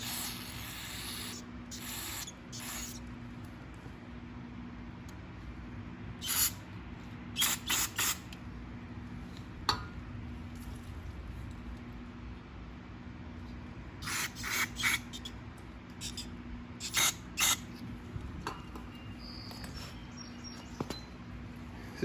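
Short hissing bursts of cleaner sprayed onto a 2004 Craftsman lawnmower's carburetor come in scattered clusters over a quiet background hum, with small mechanical clicks between them.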